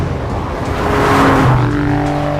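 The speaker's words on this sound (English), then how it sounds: "This sounds nothing like any other V6. It sounds more like 2 drunk 3-cylinders having an argument." Alfa Romeo Giulia Quadrifoglio's 2.9-liter twin-turbo V6 rumbling loud and close, a gruff uneven exhaust note swelling as revs rise, with tonal drone lines shifting, no talking.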